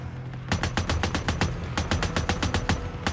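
Rapid bursts of gunfire in the video game Days Gone, a quick string of sharp cracks in an uneven rhythm, loud and close, with a brief pause midway before the shooting resumes.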